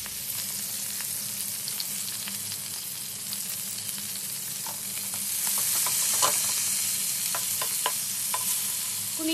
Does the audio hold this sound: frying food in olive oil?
yes